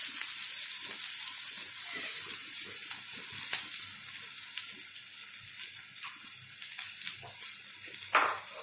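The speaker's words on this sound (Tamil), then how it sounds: "எண்ணெயிலே கொஞ்சம் கிண்டி விட்டுக்கலாம்" Shredded cabbage with onions frying in oil while being stirred in a pan gives a steady, fairly soft sizzle with occasional scraping and clinks, and no one speaks.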